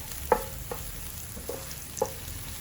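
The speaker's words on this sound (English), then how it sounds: "Add leek white part to the garlic pan. And stir fry for 1 minute until fragrant and slightly softened." The white part of a leek is stir-fried with garlic in a pan. A steady low sizzle runs throughout, broken by a few light taps and scrapes of a spatula.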